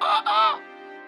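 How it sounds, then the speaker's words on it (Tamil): A voice crows like a rooster in place of a man's speech, two loud, strained, honking calls with a brief break between them, then a fading tail. "பிரபல பேச்சாளர் சரவடி சண்முகமணியின் குரல் சேவல் குரலாக மாறியது"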